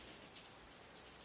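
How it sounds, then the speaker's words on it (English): Rain beginning to fall outside in a backyard, a faint steady hiss of drops with no voices. "You can hear the rain is starting to roll in"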